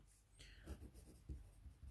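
Pen scratching across paper, light strokes with a few firmer taps, close and fairly faint in a quiet room.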